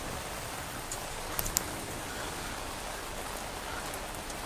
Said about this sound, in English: Let's see if the rain stops.